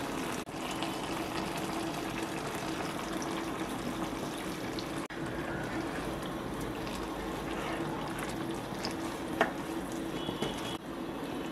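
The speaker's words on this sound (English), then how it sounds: "Now pour a little water and cook till the cauliflower becomes soft." Water pours and simmers steadily in a pan of cauliflower curry, a continuous soft gushing, bubbling wash with occasional faint clinks, no talking.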